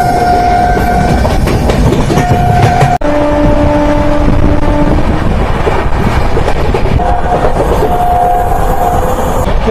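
A fast train runs at high speed in India, with steady loud rumbling and rail clatter throughout, a brief dip near three seconds, and a faint horn-like tone recurring in the background.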